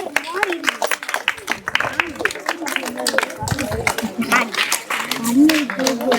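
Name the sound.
children clapping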